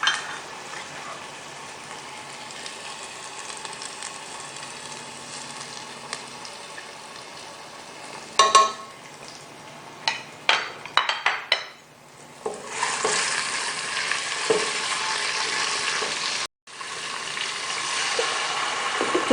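Garlic and cumin frying in hot oil with already-fried onions while being stirred for cooker rice, a steady close sizzle with scraping stirs and spoon clinks, a brief pause near the end.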